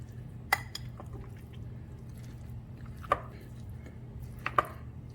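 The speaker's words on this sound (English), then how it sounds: "now we're going to mix the ingredients together" Cream cheese and mozzarella filling for stuffed salmon is mixed in a bowl, giving three sparse, sharp utensil taps and soft squishes over a quiet background hum, with no talk.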